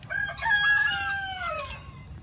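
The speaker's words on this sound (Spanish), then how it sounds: "Ahora vamos a ponerles comida acá a las gallinas." A rooster crows one long drawn-out call at close range while hens are fed on a small farm, with faint clucking underneath and no talk.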